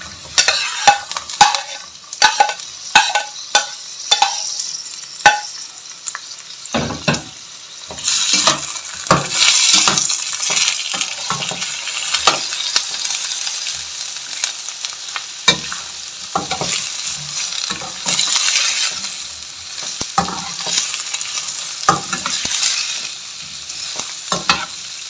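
Three coarsely chopped medium onions and whole garlic cloves frying in oil for a white chicken karahi, sharp metal spoon clinks at first, then a loud continuous sizzle broken by stirring scrapes, no talking.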